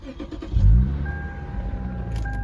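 A 2006 Lexus IS350 engine cranks and catches with a loud low burst, then settles into a steady idle rumble with a faint whine, no talking.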